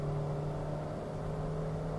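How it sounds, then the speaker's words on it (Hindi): A hybrid car's petrol engine cuts in as the accelerator is pressed, giving a steady, close, droning hum with a low tonal whir that holds level throughout, with no talking over it. "जैसे हमने पेडल प्रेस किया तो गाड़ी ने इंजन स्टार्ट किया"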